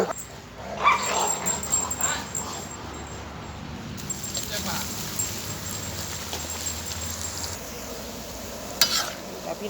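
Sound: crab sticks frying in boiling oil

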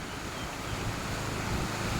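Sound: fast-flowing canal water rushing

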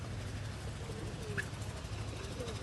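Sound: pigeons cooing

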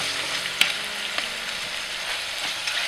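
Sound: stirring tomatoes and herbs frying in a pan

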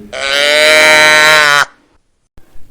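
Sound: cows mooing

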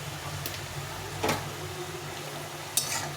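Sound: mustard greens being stirred and fried in a pan

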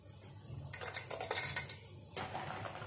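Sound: raisins being added into a bowl for macaroni salad

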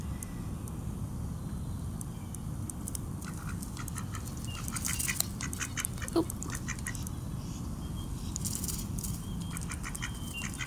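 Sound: mallard ducks quacking

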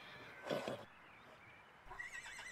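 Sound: foal neighing in cartoon

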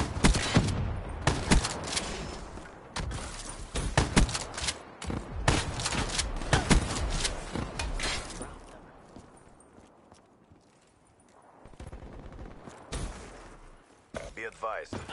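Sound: sniper gunfire from a video game

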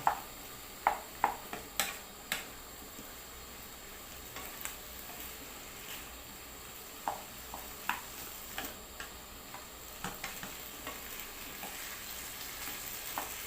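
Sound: stirring mushrooms and meat in a cooking pot

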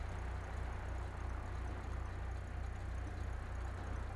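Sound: BMW convertible car engine with modified exhaust, from video game GTA 5

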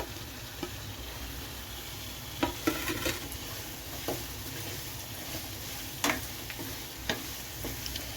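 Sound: chopped onions and green chilies frying in a pan

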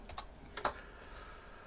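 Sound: typing ipconfig on a computer keyboard

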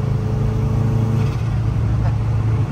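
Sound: Subaru WRX accelerating at half throttle in fifth gear

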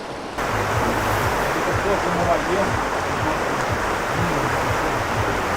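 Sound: flowing water of the Prut river

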